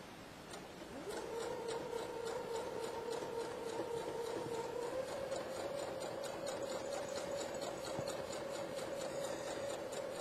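A home sewing machine runs a seam, starting with a short rising whir and then settling into a steady, even mechanical hum with rapid needle ticking. It is close and fairly quiet, with no talk.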